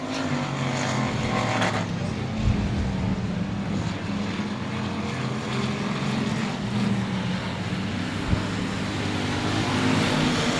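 Race car engines roar around the Cotton Bowl Speedway dirt track, a continuous droning blend of several cars with a few louder passes rising out of the mix, heard from a distance.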